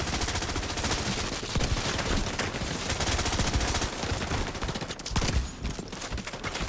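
Rapid bursts of automatic gunfire crackle steadily throughout, dense and continuous with brief pauses, in a PvP firefight in The Division 2.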